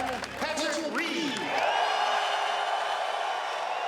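A large golf crowd at Hazeltine during the 2016 Ryder Cup cheers and applauds for Patrick Reed, a loud sustained roar of clapping and whoops, with an announcer's voice at the start.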